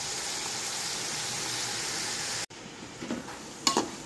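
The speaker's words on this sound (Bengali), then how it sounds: "চালটাকে একটু নেড়ে ভেজে নিতে হবে।" Rice being stirred and fried in hot oil with garam masala and bay leaves for chicken biryani, a steady close sizzle that cuts out abruptly, then softer scraping stirs and a couple of brief clatters.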